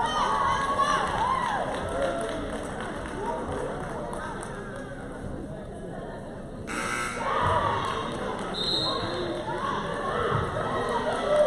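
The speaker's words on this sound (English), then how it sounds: "Impressive show from the cheer team" A crowd at a men's college basketball game cheers and shouts while the cheer team performs, with footsteps and thumps mixed in and a sharp rise in noise midway through. People talk throughout.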